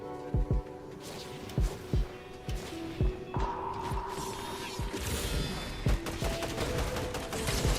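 Gunfire in the video game Fortnite: a loud run of sharp, irregular shots over about eight seconds, with mechanical clicks and a busy background hum.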